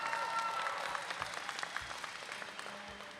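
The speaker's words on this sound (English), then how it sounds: "that deserves a round of applause" A college commencement audience claps at a moderate, fairly distant level, with sharp individual claps audible in the crowd and the applause gradually thinning out.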